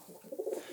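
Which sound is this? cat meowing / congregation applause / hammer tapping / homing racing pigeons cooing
homing racing pigeons cooing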